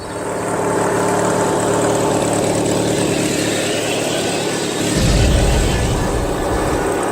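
Small pressure washer engine fitted to a push lawn mower, running steadily with a loud, continuous droning rumble, close by; a deeper low surge enters partway through, with no talk over it.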